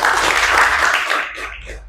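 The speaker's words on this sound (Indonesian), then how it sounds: "tepuk tangan buat Akmal" A class of students claps for a classmate in a classroom, a short burst of many hands that fades within two seconds, with a faint voice near the end.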